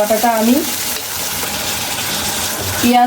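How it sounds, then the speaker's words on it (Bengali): Onion paste frying in hot oil in a pan, a steady broad sizzle that fills the short stretch, with a voice speaking at the start and end over it. "বাটাটা আমি তেলের মধ্যে কিছুক্ষণ ভেজে নেব"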